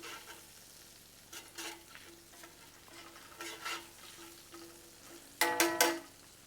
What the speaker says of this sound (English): We're going to mix that around a little bit. That'll actually deglaze the skillet for me.